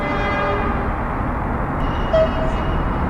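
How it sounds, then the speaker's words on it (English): Trains rumble steadily in the Workers & Resources video game, a dense continuous rail noise with a brief horn-like tone near the end. "That means that we can deploy some trains."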